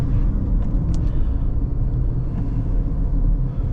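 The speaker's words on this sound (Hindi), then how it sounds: "व्हीकल सस्पेंशन नॉर्मल हुआ, और फिर वो रंबल स्ट्रिप से गुजर गया।" A Honda CR-V passing over a road rumble strip, a loud, dense low rumble with a steady drone running from start to finish, heard up close from inside the car.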